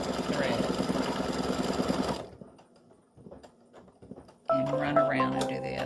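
An embroidery machine stitches a few small stitches on a St Patrick's gnome design, a steady close mechanical whir for about two seconds that stops abruptly, followed by quiet handling noises and then a person talking.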